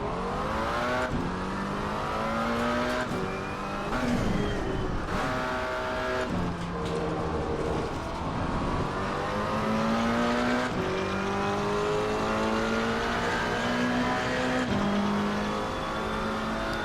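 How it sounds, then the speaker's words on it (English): A McLaren GT4 race car engine in Assetto Corsa Competizione screams through repeated upshifts and downshifts, pitch climbing and dropping with each gear, heard from inside the car over tire noise. "that's definite McLaren sound"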